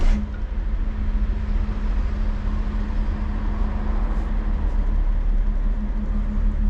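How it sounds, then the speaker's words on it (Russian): A BMW car engine runs at a steady idle right after starting, a loud continuous low hum with a constant drone, close and unbroken throughout. "давайте сейчас запустим машину"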